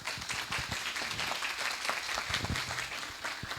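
An audience at a medical symposium applauds to welcome a cardiologist to the stage, a steady spread of clapping heard from some distance at moderate level.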